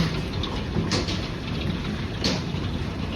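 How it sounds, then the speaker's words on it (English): Large hail the size of golf balls pours down on a garden during a severe storm, a dense roaring patter with occasional louder thuds of stones striking close by. "There is hail coming down."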